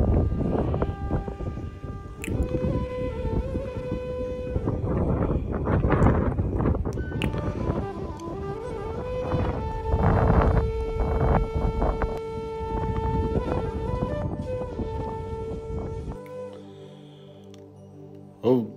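Mountain wind in the Kale Darbar area of Manang, Nepal, buffets the microphone with a loud, steady rumbling roar and a few sustained tones, then eases off near the end.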